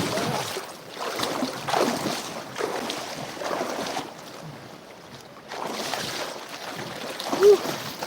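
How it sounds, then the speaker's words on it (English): Water swirling and sloshing in a gold pan at a creek in freezing, windy Georgia weather, soft repeated washes rising and falling with some wind noise. "Let's go ahead and pan this out."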